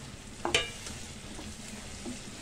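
Tomatoes dropped into a sizzling pan of Guddu pulusu, an egg curry, giving a short burst of frying crackle and a stir over a faint steady sizzle, quiet and close.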